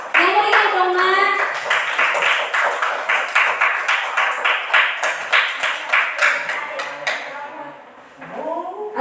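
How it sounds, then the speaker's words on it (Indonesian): A class of students claps for a presenting group in a school lesson, a run of rhythmic, roughly unison handclaps, with a teacher talking before and after. "Beri tepuk tangan untuk kelompok 2."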